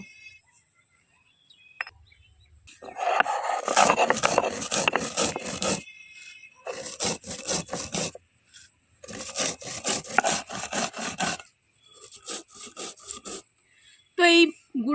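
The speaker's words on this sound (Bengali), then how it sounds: "যেই ভেজে রাখা পাঁচ ফোড়নটা এখন আমি শিলনড়াইতে গুঁড়ো করে নেব" Roasted panch phoron spices are ground on a flat shil-nora stone, heard as close, rhythmic scraping rubs in several bursts of rapid strokes, separated by short pauses.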